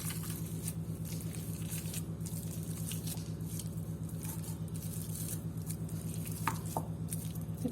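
Boiled potatoes being mashed for stuffed crispy potato balls, a steady soft squishing and patting that continues close up without pause, over a low constant background hum.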